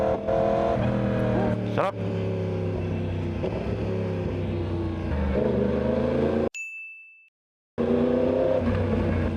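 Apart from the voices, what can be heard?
Yamaha R1 motorcycle engine roaring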